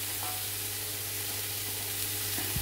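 Vegetables for a Pakistani samosa filling fry lightly in a pan, a steady soft sizzle with occasional small crackles and a low background hum, fairly quiet throughout.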